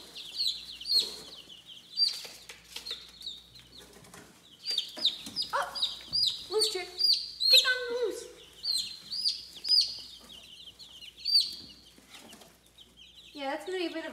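Young chicks cluck and peep continuously in an indoor enclosure, with dense overlapping high chirps and soft clucks close by, mixed with occasional handling noises.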